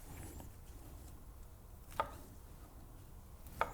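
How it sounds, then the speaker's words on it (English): A knife chops morel mushrooms on a cutting board, giving two sharp, isolated taps against a faint, quiet room background. "So we're done with chopping up the mushrooms"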